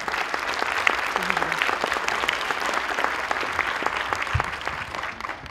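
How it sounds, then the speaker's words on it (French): Audience applause at an underwater-image festival evening, steady dense clapping with scattered sharp claps, sustained throughout at moderate level. "Allez, aux applaudissements pour Bertrand Loyer."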